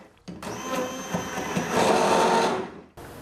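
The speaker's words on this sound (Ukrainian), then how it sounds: "У шоколадну масу кондитерка додає перемелені горіхи і заварену нерозчинну каву. Усе це збиває до однорідності." A blender switches on and whips a chocolate vegan ice cream mass with ground nuts and brewed coffee, a loud steady whirring motor for about two and a half seconds before stopping abruptly.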